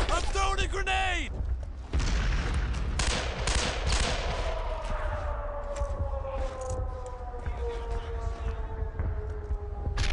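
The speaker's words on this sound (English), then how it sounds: "Is that our artillery?" Artillery fire booms through a Brothers in Arms: Earned in Blood battlefield, with dense crackling gunfire and rising-then-falling siren-like whines over several seconds, and a voice talking through it.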